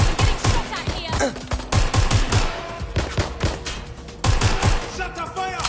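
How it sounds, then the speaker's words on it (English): Bursts of gunfire in the Watch Dogs Legion action game, repeated rapid volleys of shots in clusters, loud and close, mixed with shouting voices and other game noise. "Getting shot at here!"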